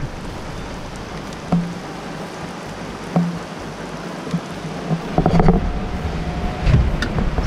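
Rain from a tropical storm hisses steadily on a riverbank while gusts buffet the microphone, with a few soft knocks early on and a louder wash of rain and wind in the last couple of seconds.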